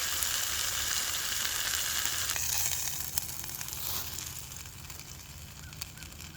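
Food sizzles steadily in a non-stick pan at a sub-freezing campsite, a close, continuous frying hiss that eases slightly partway through, with a few small clicks and knocks.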